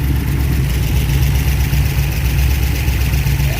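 An old Ford Mustang engine, abandoned for over a decade, runs at a steady idle with a low, even rumble that stays continuous and fairly loud throughout, with no talking.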